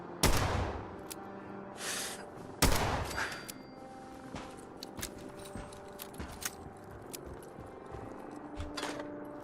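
Gunfire from a weapon in Fallout 4: two loud single shots early on, followed by scattered lighter clicks and clattering, with no talk.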